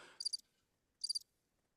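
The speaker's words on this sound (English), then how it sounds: "Oh, crickets." A crickets-chirping sound effect plays two short trilling bursts about a second apart, crisp and high, with silence between them.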